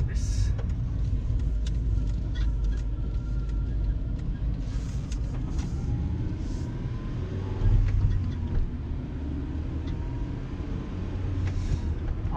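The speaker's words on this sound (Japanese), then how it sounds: "マフラーはすごい静かですね。" A 2007-era Honda Civic Type R FD2 with an aftermarket muffler, coilovers and a carbon hood drives along, heard from inside the car as a steady low engine and road rumble with the exhaust kept quiet.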